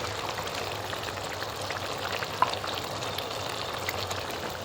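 Ginger-garlic paste sizzles continuously and evenly in hot oil in a pan while a rui fish and cauliflower curry is cooked, a close, steady crackling hiss with one brief tap midway and no voices.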